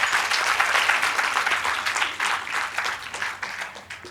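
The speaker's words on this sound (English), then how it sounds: "a big round of applause for Manjeet Kripalani" Applause from an audience at a literary festival panel session, a sustained, fairly loud wash of many hands clapping that pulses slightly and carries on without speech.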